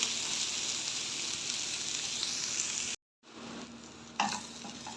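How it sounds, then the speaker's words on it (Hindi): Onions fry in two spoons of oil for a bitter gourd dish, giving a dense continuous sizzle that cuts out abruptly and then returns more softly, with one louder stirring scrape near the end and no talking. "ऐसे हम 2 चम्मच ऑयल में अच्छी तरह प्याज को फ्राई कर लेंगे"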